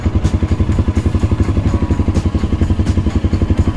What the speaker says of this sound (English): that is the exhaust note